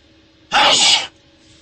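A single loud, sharp sneeze bursts out close by, about half a second long, with quiet room tone before and after.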